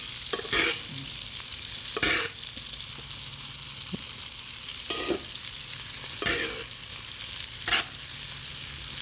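Top sirloin steaks frying in seasoned butter in a pan, a loud continuous sizzle and crackle with occasional scraping stirs and spoon clinks throughout.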